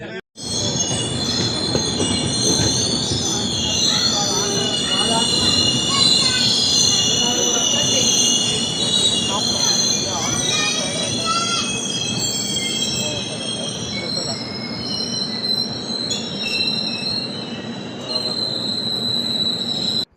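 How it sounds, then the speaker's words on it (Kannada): The Hussain Sagar Express, running from CSMT to Hyderabad Deccan, pulls into Vikarabad station. Its wheels squeal loudly and steadily on the rails for about twenty seconds, with a rumbling train underneath and faint background noise from the platform. "CSMT Hyderabad Deccan ಆ್ಯಪ್ಲಿ Hussain Sagar express ಬಂದೈತ್ರಿ"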